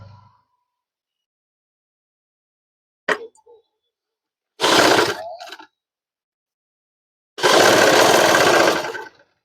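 A sewing machine stitches piping onto a shirt collar in short separate bursts: a quick tap, then a run of about a second, and a longer, louder run of around two seconds, with silence between.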